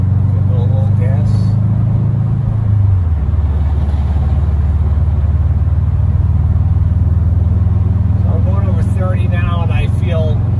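A Subaru STI on all-season tires accelerates on a snowy road, its engine a loud, steady low drone with a shift in pitch early on, and a person talks over it near the end.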